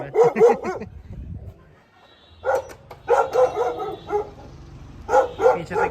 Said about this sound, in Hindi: ये देखिए डॉग, ये भौंक रहा है।